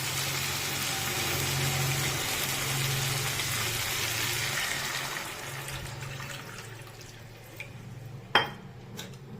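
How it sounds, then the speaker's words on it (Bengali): Water is poured into fried masala for a soybean kofta curry, a steady rushing splash for about five seconds that fades to a quieter simmer, with a sharp utensil clink near the end. "এই যে মশলা থেকে তেল ছেড়ে গেছে, এবার জল ঢেলে দেবো।"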